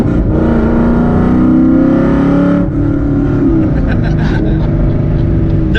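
A Fox body car with a swapped Coyote V8 engine accelerates hard, its loud engine note rising steadily, easing briefly, then climbing again from inside the cabin.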